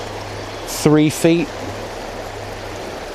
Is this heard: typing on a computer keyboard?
no